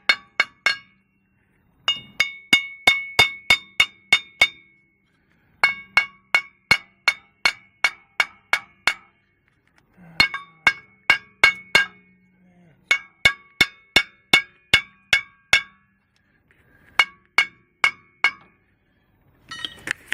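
A hammer taps on a wheel stud of a Ford F-250 pickup during stud replacement, light metallic clinks in quick rhythmic runs of several taps each, close and fairly quiet, with short pauses between runs.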